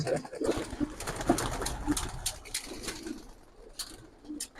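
Giribaz pigeons being released: soft cooing near the start, with rustling and fluttering that fades out over a few seconds.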